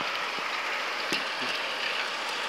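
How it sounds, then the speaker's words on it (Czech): Hail pelts a surface outdoors in a steady, dense hiss of countless small impacts, with a few sharper ticks standing out, continuous throughout and without talk. "To je kroupy."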